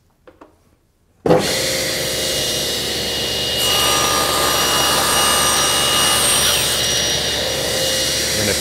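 Power tool switches on abruptly after a moment of quiet and cuts a 45-degree bevel along a wooden table rail, a loud, steady, high whine with a gritty cutting roar that swells midway and keeps running.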